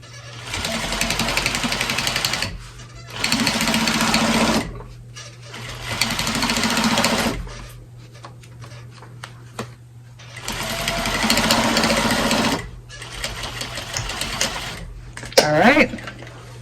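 A sewing machine stitches a potholder in several loud, rapid runs of a few seconds each, separated by pauses filled with a low motor hum and light handling clicks.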